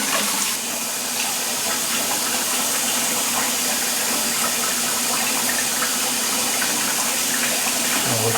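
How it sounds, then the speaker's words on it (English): A wild hog carcass is washed down with a steady, close rush of running water, hissing continuously throughout. "I'm just going washing the hog down real quick"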